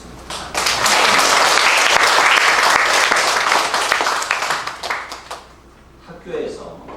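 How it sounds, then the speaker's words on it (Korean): A church congregation bursts into loud, hearty applause, a thick wall of clapping that swells quickly, holds strong, then thins and fades out near the end, followed by a brief voice. "그 모든 스승들을 위해서 우리 한번 힘차게 한번 박수했으면 좋겠습니다."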